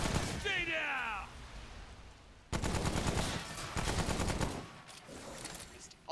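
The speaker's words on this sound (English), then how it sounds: "Missed all of those bullets." Gunfire in the video game Remnant: From The Ashes, dense rapid bursts of shots that are close and loud, with a voice heard near the start.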